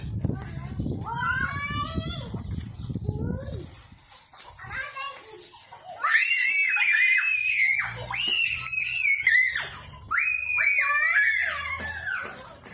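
High, piercing shrieks come in repeated bursts, loud and close, some cracking into squeals, following a stretch of lower chatter and noise.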